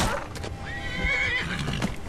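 A horse in Skyrim lets out a loud, wavering whinny over a busy background of hoof clatter and scuffling.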